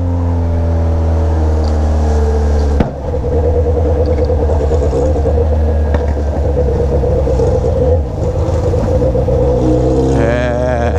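A Yamaha XJ6 motorcycle with a stainless-steel Atalla exhaust pipe and Fuel Tech tuning rides through moderately heavy night traffic, its engine droning close and loud, with pitch shifts as it revs and a rising whine near the end.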